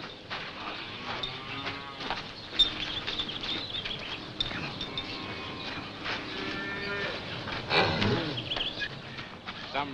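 A cow that recently calved moos repeatedly on a farm, with several drawn-out lowing calls, moderately close, over steady outdoor background noise and faint patter.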